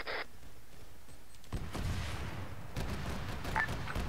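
Heavy gunfire shoots down an enemy ship in a space combat video game. A burst of booming, crackling shots and blasts runs for several seconds, loud and dense, with no voices.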